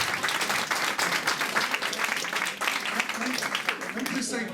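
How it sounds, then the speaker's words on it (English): A crowd at a Ward 5 Democrats meeting with the DC mayor applauds in moderate, fairly distant clapping that rises and falls for a few seconds, with voices mixed in toward the end. "So let's give them all a round of applause."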